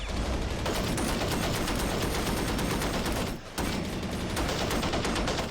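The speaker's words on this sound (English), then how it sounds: "What about these dudes on the machine guns?" Sustained machine gun fire in the video game Army Men of War battle simulator, a dense, loud, continuous rattle of shots that dips only briefly in the middle.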